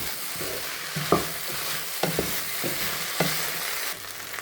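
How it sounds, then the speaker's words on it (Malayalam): A ladle stirs and scrapes a Kerala-style potato stir-fry in a pan over a medium flame, giving soft sizzling and a few sharp metallic scrapes and knocks. "ഒരു തവി വെച്ച് ഞാൻ എല്ലാം കൂടി യോജിപ്പിച്ചു 1 മിനിറ്റ് നേരം."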